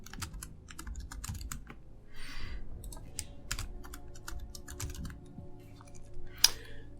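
Quick keystrokes on a computer keyboard as a password is entered, an uneven run of sharp, close clicks and taps with brief pauses and a louder final key press.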